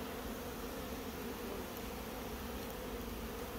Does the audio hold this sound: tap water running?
no